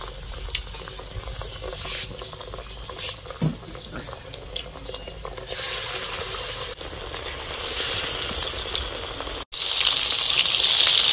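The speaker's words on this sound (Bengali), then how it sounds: "চাল কুমড়োর এই চপ বা বড়াগুলো ভাজতে কিন্তু একটু টাইমে লাগবে।" Batter-dipped, stuffed ash gourd fritters deep-fry in hot oil with a continuous bubbling sizzle that swells louder and brighter near the end.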